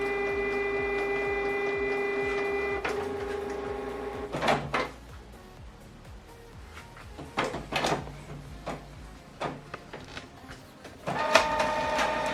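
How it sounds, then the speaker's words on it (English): A Canon printer runs a print job over Wi-Fi: a steady mechanical whir with tonal hum for the first few seconds, then a series of sharp clacks and paper-feed thumps spaced through the rest, close and moderately loud, no talk. "send the job to the printer, and this document now is going to print"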